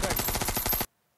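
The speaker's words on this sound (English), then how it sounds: "Why waste thousands of rounds of ammunition shooting the brick wall of a building?" Rapid automatic gunfire from the film Operation Dunkirk, thousands of rounds hammering a building's brick wall: a dense, loud, rhythmic burst that runs for under a second and then cuts off abruptly into silence.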